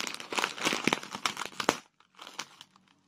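A Cheese and Onion Snacktastic crisp packet is squeezed and burst up close, a run of sharp plastic crinkles and crackles, then a brief pause and a quieter second burst of crinkling.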